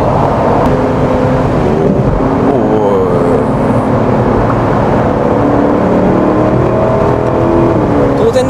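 Lexus LC500 convertible engine roaring while driving on a road, a loud sustained drone with rising and falling revs and wind noise, continuous and close throughout.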